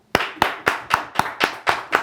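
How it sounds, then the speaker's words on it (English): A small studio audience on a podcast set claps in a slow, even rhythm, eight distinct near claps in a row, crisp and alone with no talk. "Let's get a clap from them"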